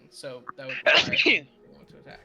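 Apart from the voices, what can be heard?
sneeze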